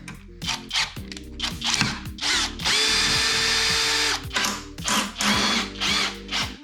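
A 20V brushless drill with a Phillips bit drives a screw in repeated short bursts, its motor whirring up and down. One longer steady run sits in the middle, loud and close, with no talking.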